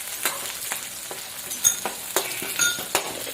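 Fish frying in a pan with steady close sizzling and crackling, broken by several sharp spikes of spattering oil and a few light utensil clinks, with no talking.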